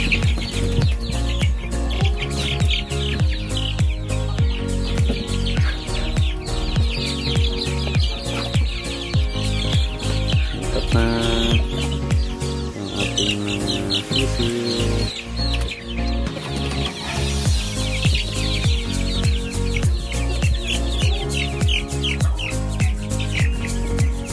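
A brood of chicks cheeps, chirps and clucks continuously and loudly at close range while they are moved into a new brooder, with dense overlapping calls throughout.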